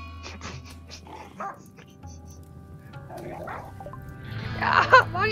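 A dog in the RimWorld video game barks and growls in short bursts, with a louder flurry near the end, over low background game sounds.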